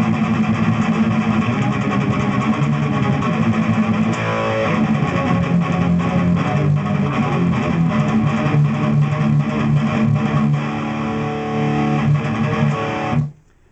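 Palm-muted electric guitar riff played solid and clean, a steady chugging pattern of tight, damped notes running continuously for about thirteen seconds before stopping abruptly, with no talking.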